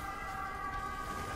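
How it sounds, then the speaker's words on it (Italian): An ambulance siren sounds from outside, down below the room, as a steady, faint, sustained tone that holds without obvious rising or falling and runs alone for the whole stretch. "Arrivano anche l'ambulanza qua sotto, non so perché."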